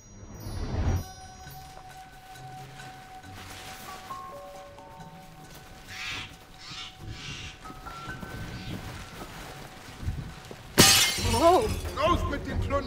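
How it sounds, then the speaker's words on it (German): A vase and other household items shatter in one sudden loud crash of breaking glass and debris near the end, after a stretch of quieter tones and background voices. "Tante Hedwigs Vase. Scherben bringen Glück."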